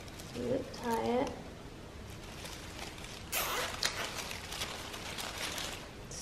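Zip ties are ratcheted tight onto a Christmas garland, a short burst of fast zipping clicks near the middle, with a brief spoken voice earlier.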